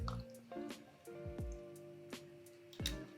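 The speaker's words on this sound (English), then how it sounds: "And then let's put some of the vinegar." Vinegar drizzled over chopped onion dusted with sumac, giving a few close, soft drips and wet squishy splashes spaced out over a few seconds against a quiet kitchen background.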